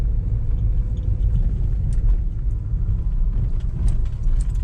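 A 2000 Mercedes-Benz E200 W210 rolls over a rough, bad road, a steady low rumble of tires and body in the cabin with faint scattered knocks, no voices.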